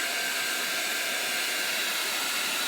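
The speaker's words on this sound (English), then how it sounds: "I am only drying this with a heating gun right now" A heat gun blows steadily on fresh ink on a pillow, a constant loud airy roar and hiss with no break and no talk.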